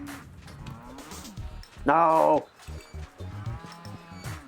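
A cow in the video game Moving Out 2 lets out a single loud, drawn-out moo in the middle, with people talking before and after it.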